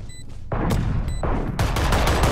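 Rapid gunfire from the video game Valorant, with dense bursts of shots that crack in repeatedly and stay loud and close throughout, with no talking.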